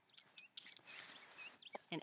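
Soft clucking and chirpy calls from chickens, fairly faint, with a few short bursts and a louder squawk near the end.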